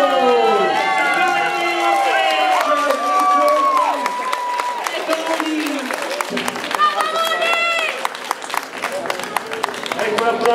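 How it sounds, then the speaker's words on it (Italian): A crowd at a cosplay contest at Firenze Comics 2018 claps and cheers loudly, with excited voices calling out over the applause, which becomes crisper, separate clapping toward the end. "Ecco l'applauso!"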